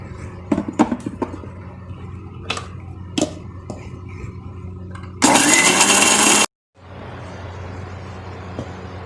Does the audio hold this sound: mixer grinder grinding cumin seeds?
yes